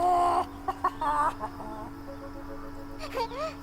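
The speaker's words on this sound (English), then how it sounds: "He sounds like a chicken a little bit" Clucking, chicken-like character vocalizations from The Last Day of June, a few short squawky bursts near the start and again toward the end, over steady game music with brief talk in between.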